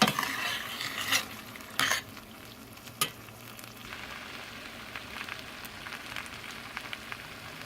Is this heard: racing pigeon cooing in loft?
no